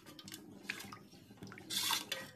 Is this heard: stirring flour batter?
yes